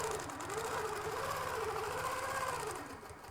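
A sewing machine runs continuously, stitching a quilted sherbet table runner, with a close, steady, even-pitched whirring hum that lasts a few seconds and drops off slightly at the end.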